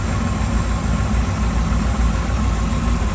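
A 1985 Chevrolet Camaro Z28 engine with an Edelbrock 4-barrel carburetor idles steadily with a deep, even rumble and faint vibration, close and fairly loud, with no voices.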